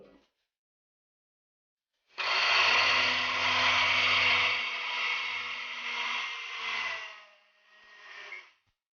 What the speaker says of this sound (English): we need to grind it coarsely, powder it, not grind